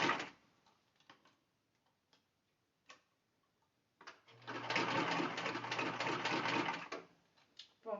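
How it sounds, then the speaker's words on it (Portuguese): Sewing machine stitching fabric for a car trash bag with pockets, a few short ticking bursts and then a steady run of about three seconds, fairly quiet and close, with no talk. "Vão fazendo a costurinha, prestando atenção."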